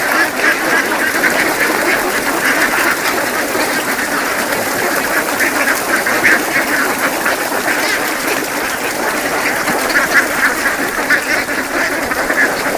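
A flock of ducks quacks continuously, a dense busy chorus of overlapping calls that never pauses, close and steady throughout.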